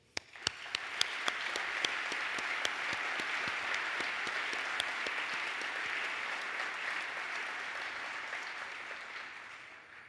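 Audience applauds at a closing ceremony held in the Arquivo Room in Portugal, a sustained, even roar of many hands clapping with a few sharp individual claps standing out near the start.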